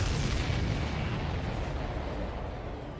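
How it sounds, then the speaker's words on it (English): A deep, rumbling explosion rolls out in the Ace Combat 7 flight combat video game, a loud low boom that slowly fades over a few seconds, with no talking. "Did you see that explosion?"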